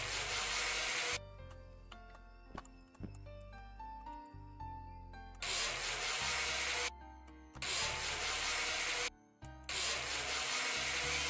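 Angle grinder grinding on a car's hood in a video game, broadband hiss surging in long loud bursts with short gaps, alternating with quieter stretches of game music.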